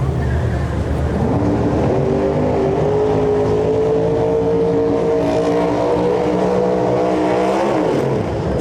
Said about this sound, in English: I'd be wanting to do a nice, big, massive, smoky burnout, try to get those tires nice and hot, nice and sticky